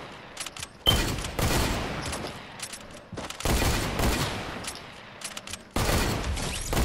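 Fortnite gunfire comes in loud, dense bursts of rapid automatic shots, with several long volleys separated by short pauses and scattered single cracks in between.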